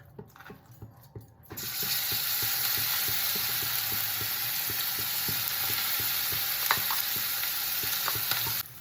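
Pea paste for kochuri filling hits hot oil and bursts into a loud, steady sizzle, with rhythmic scraping stirs of a spatula against the pan throughout.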